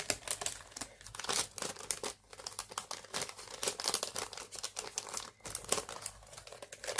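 A plastic craft pouch crinkles and rustles steadily as an item is pushed inside, with close, busy crackling throughout and no talking.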